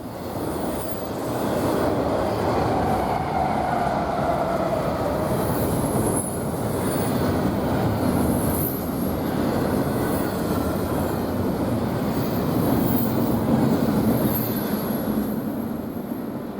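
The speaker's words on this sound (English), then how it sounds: "We just barely beat this hotshot Z train to a spot between Hillsdale and Archer." A hotshot Z freight train passing between Hillsdale and Archer near Cheyenne, Wyoming: a loud, continuous close rumble of wagons on rails with thin wheel squeals rising and fading throughout.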